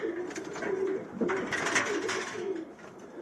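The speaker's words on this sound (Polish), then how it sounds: "tu wypuszczam gołąbki i one sobie wchodzą do wolierki" Racing pigeons coo softly in an aviary just after release, with low rolling coos from a few nearby birds and faint rustling over about three seconds.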